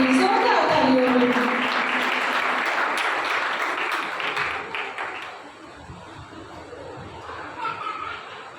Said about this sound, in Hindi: आपकी जोरदार तालियों में सिस्टर रना को वेलकम करेगी